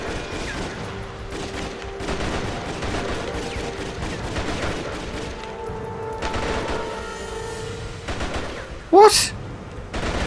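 Gunfire in the PS2 action game Rise to Honour, scattered bursts of shots under someone talking, with a sharp louder blast near the end.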